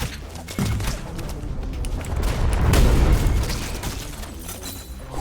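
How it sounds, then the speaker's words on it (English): Homing missiles firing in a fighting video game, a dense stream of synthetic booms and bursts rolling continuously, loud and swelling in the middle before easing off. "firing off homing missile after homing missile."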